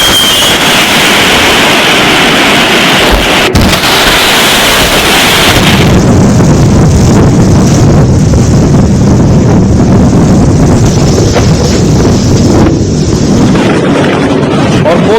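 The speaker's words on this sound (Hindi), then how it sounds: "भारत में जो मोथा तूफान है उसकी दस्तक तट पर दी गई" Cyclone Montha batters the coast with roaring storm winds and crashing waves, a loud, unbroken wash of rushing noise with a sharp thump partway through and deeper rumbling in the latter half.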